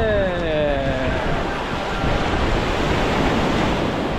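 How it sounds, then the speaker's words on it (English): Ocean waves break and wash onto a beach, a loud continuous roar of surf with wind buffeting the microphone, no voices over the steady wash. "We are on the beach right now."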